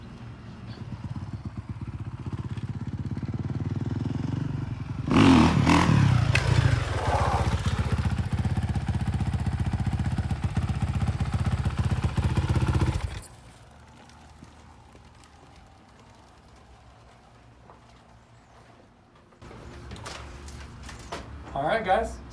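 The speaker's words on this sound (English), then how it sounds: "we got to do a wheelie in the parking lot" A Honda CRF450R dirt bike revs loud and close in a parking lot during a wheelie, roaring for several seconds before it cuts off sharply, followed by a quieter stretch with faint sounds.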